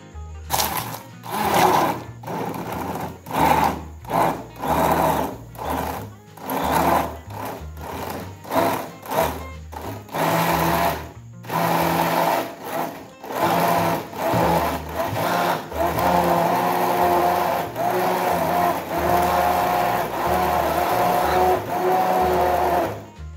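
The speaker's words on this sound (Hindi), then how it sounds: "और अब इसके अंदर चलाएंगे हम ग्राइंडर" A kitchen mixer grinder blends grapes with a spoonful of sugar and salt into juice, its motor whirring steadily in repeated bursts, with stop-start pulses early on giving way to a continuous, loud grinding run.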